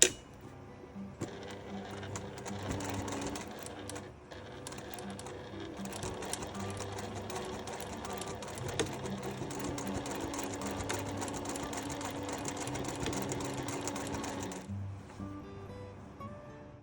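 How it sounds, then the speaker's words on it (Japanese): A sewing machine stitches overlapping seams closed on a handmade wire-frame fabric backpack, running in long steady whirring bursts with brief pauses and restarts. "ワイヤーを通した後に縫い目を重ねて閉じます"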